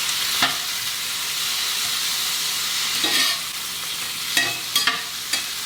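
Tomatoes and jalapeno sizzling in a pan for chicken 65, a South Indian dish: a steady hiss of frying, broken by a few scraping stirs near the end, close and with no talking.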